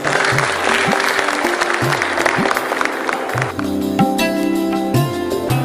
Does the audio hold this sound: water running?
no